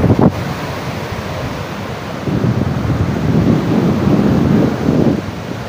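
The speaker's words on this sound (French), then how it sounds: "il y a le vent" Steady wind buffets the microphone at a clean beach in Ghana, a broad rushing roar that swells stronger in the second half, with no voices.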